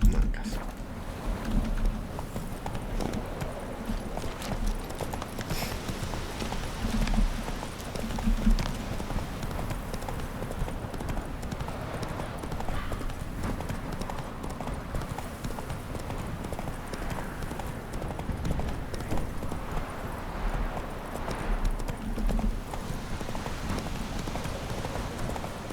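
Hooves clip-clop rapidly as a horse gallops in The Witcher 3 video game, a continuous rhythmic pounding at close range over a steady ambient bed, with faint water and weather sounds in the background.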